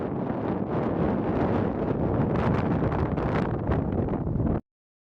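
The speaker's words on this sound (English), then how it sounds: "There's quite a bit of wind" Strong wind buffets the microphone at a rocky high-altitude campsite in La Puna, Argentina, a loud, continuous roaring rush with gusty surges that cuts off abruptly.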